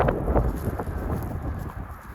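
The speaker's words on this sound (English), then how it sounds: "It's super windy" Strong wind during a dust storm in the Badlands buffeting the microphone, a continuous low roaring rumble with gusty swells, outdoors and close.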